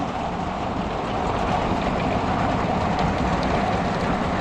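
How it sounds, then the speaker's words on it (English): A steady, dense roar of wind and rain, loud and unbroken throughout, with no voices. "Now we're getting the wind."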